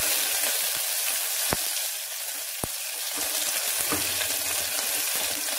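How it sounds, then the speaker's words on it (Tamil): Dried chilli, shallots and curry leaves sauté in a pan with a steady, broad hiss of frying oil throughout, broken by two brief sharp clicks and a low scrape near the end. "இதில் ஒரு வத்தல் சின்ன வெங்காயம் ரெண்டு மூணு கருவேப்பிலை"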